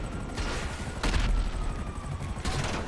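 Gunfire and rocket shots in GTA Online: bursts of rapid shooting and booms come in several clusters over steady background noise.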